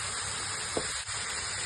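Garlic and green chili sautéing in a pan for fried rice, giving a steady, even hiss of frying with one small pop partway through.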